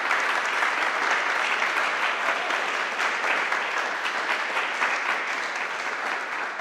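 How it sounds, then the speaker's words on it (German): An audience at a classical concert applauds warmly in a steady, even wash of many hands clapping, sustained throughout without speech. "ein großer Applaus"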